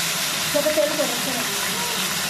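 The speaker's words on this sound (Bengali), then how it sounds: "মাছটা আমি ভেজে নেব" Salted fish coated in turmeric sizzling in hot oil, a steady loud hiss running throughout, with a voice faintly audible underneath.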